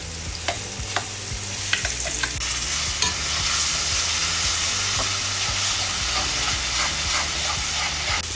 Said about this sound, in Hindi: अभी इसमें जो ये पेस्ट बनाया था टमाटर, लहसुन, मिर्ची, अदरक का, इसको इसमें हम ऐड कर देंगे।